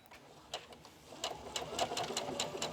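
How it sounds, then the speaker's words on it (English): A sewing machine stitches espadrille fabric, starting with a couple of isolated needle strokes and then settling into a fast, even run of clacking stitches, close and fairly quiet. "Going to sew a couple of stitches and then back up"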